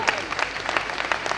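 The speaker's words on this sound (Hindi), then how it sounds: "आप लोग आमीन के तौर पे थोड़ी सी तालियां दे दें" Applause from an audience at a ghazal recital, a short, fairly close burst of clapping with dense, uneven claps at a steady level.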